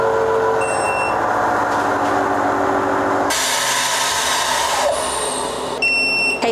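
A vacuum sealer runs its smart vac function on a medium bag with a loud continuous motor hum that shifts to a harsher pump tone partway through, then ends with short electronic beeps.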